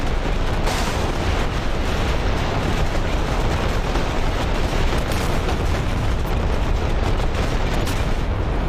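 Heavy 155mm artillery shells impacting in a wargame, a continuous loud barrage of booming blasts and crackling detonations with sharp transient hits throughout and no voices.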